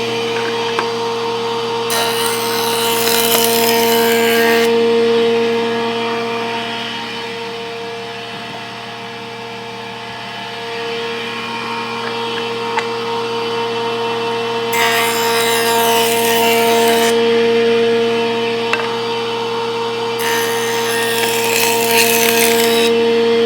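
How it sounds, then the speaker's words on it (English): A power tool runs an edge along 7/16-inch wood boards: a steady motor whine is broken by several loud bursts of rough cutting, each lasting a few seconds, close and with no talking. "I'm probably going to run an edge on them to get a good smooth"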